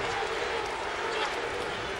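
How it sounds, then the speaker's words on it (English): Boxing arena crowd at a Shane Mosley versus Ronald 'Winky' Wright fight, a dense continuous roar of many voices chanting and cheering, steady and loud throughout with no pauses. "the crowd begins to chant Winky, Winky, Winky again"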